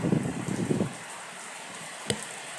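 Heavy rain comes down outdoors as a dense, even hiss throughout, with a low rumble of handling noise at the start and a single sharp knock near the end, with no talk.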